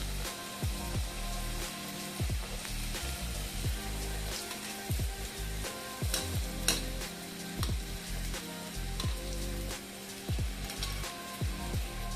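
Karanji pastries fry in hot oil over a low flame, a continuous close sizzle broken by repeated soft scraping and stirring knocks.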